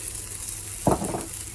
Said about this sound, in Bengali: এবারও এটাকে ভালো করে একটু ভেজে নেব